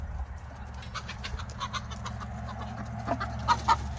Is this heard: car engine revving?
no